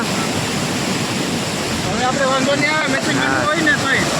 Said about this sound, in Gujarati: પાણી એકદમ ધોમે ધોમ હો.